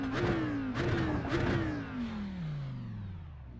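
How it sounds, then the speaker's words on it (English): A racing video game car engine revs up in a rising whine, then the pitch slowly winds back down in a smooth, steady drone. "So if I start revving it now, just let me know how that sounds."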